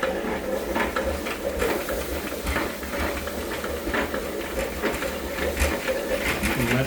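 Honey extractor holding honey frames, not bolted down and standing on a kitchen floor, spinning with a steady mechanical whir and rattle plus faint irregular clicks and taps, at moderate loudness with no speech.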